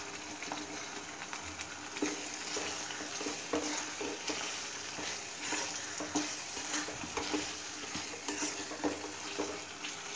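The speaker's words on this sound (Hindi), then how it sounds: "अब उसमें डालेंगे पनीर" Paneer cubes tossed and stirred in a hot frying pan for chilli paneer, giving a steady close sizzle with repeated scraping and clattering stir strokes throughout, no voices.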